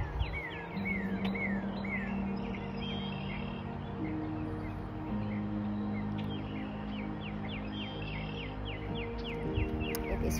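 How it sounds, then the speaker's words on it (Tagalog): Birds chirp and sing in repeated short, bright calls over a steady background hum while someone walks outdoors on a pleasant day. "gustong gusto ko talaga yung naririnig yung mga huni ng ibon."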